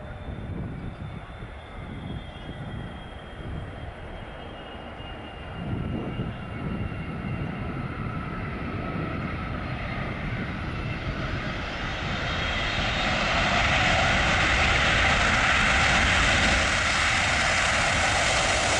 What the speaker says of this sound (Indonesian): Pesawat Garuda Indonesia landing di Bandara Sultan Iskandar Muda pada jam 17:43 WIB.